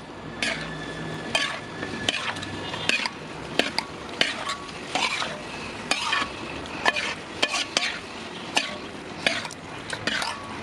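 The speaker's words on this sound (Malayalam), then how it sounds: "കൈക്ക് മിക്സ് ചെയ്യണമെങ്കിൽ കൈക്ക് മിക്സ് ചെയ്യാം." Chicken biryani mixture is worked by hand in a bowl, giving irregular wet squelches, rustles and occasional clinks against the dish, close up with no talking.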